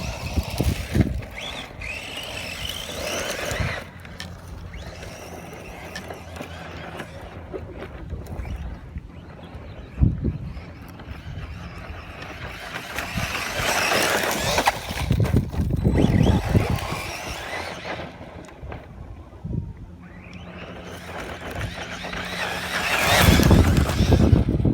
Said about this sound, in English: I'm going to be bashing the Arrma Senton V3 on 3S.